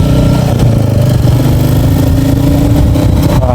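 Loud, close engine of a Royal Enfield Meteor 350 motorcycle pulling in third gear, a throbbing low rumble with rising revs and steady thumping pulses, no talk over it.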